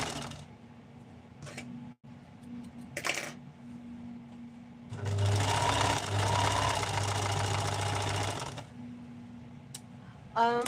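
A domestic sewing machine stitches in a single steady run of a few seconds mid-clip, with quiet room sounds and small handling noises before and after.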